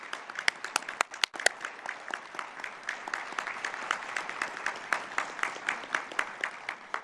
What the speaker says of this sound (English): So I want to give a round of applause to Lisa.